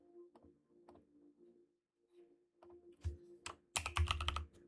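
Keys clack on a computer keyboard in a quiet room, sparse soft taps at first, then a quicker cluster of louder keystrokes toward the end.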